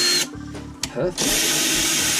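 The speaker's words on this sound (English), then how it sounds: "Now all it's left to do is drill" A power drill bores holes through material while building a custom inverted pedal set for a Logitech G920 racing wheel, whirring steadily and close up for most of the clip after a brief gap.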